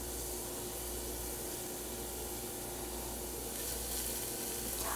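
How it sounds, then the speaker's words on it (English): Onions and garlic sizzling in a pot, a steady, even hiss of frying that runs unbroken and fairly loud at close range, with no voices over it. "onions and garlic are in and the pot's starting to sizzle"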